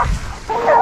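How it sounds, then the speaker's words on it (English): Hunting dogs driving a wild boar in the field, a short close yelp or bark burst, loud and brief, with no talk over it. "the air in the field was still buzzing with the echoes of the hunting dogs"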